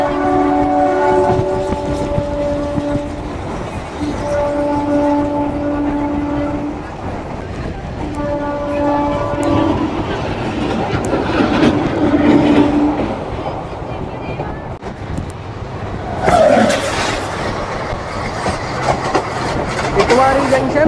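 The Maharashtra Express runs on rails between Gondia and Nagpur, heard from on board with a steady loud rumble and clatter. Long horn blasts sound repeatedly, and a voice talks over it in places.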